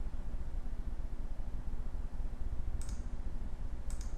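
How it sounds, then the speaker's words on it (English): Computer mouse click: two faint, sharp clicks a little over a second apart, set against a low continuous background hum, with no talking. "I'm going to click approve."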